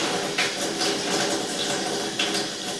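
Water runs steadily through a household drain line, a continuous rushing hiss with faint gurgles and a few brief splashy surges.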